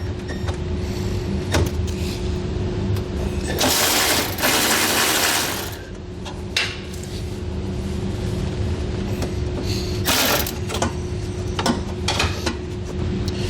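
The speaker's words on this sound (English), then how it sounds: "We're gonna use a 10mm socket, remove both of those." A ratchet wrench with a 10mm socket loosening nuts on an underbed gooseneck trailer hitch beneath a truck, with steady clicking pawl runs and a couple of louder bursts over a low, constant hum.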